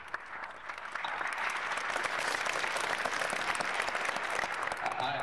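Sustained applause from an audience at a business event honoring a Maryland governor, steady and dense throughout the clip with no talking.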